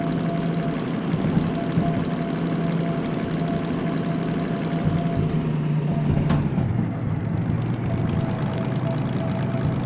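A diesel locomotive in Derail Valley runs steadily at a fixed power setting, a loud, continuous low rumble with a knocking undertone that briefly dips and shifts midway before settling back into the same drone.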